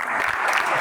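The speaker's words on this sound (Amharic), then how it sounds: "አማን አጨብጭቡለት።" Dense, steady applause from a studio audience on a quiz game show greets contestant Aman, filling the space without any speech over it.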